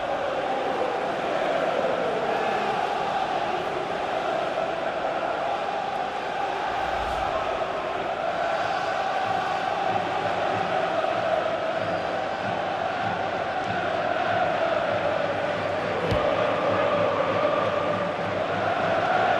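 Football stadium crowd in the FIFA 15 video game, Premier League match Burnley v Tottenham, a dense continuous roar swelling around a near goal, steady and loud throughout with no voices standing out.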